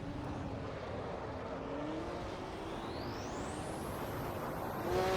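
Porsche 917/30 Spyder race car in Assetto Corsa at Silverstone, engine at full throttle with a loud, continuous roar climbing steadily in pitch, then a shift near the end.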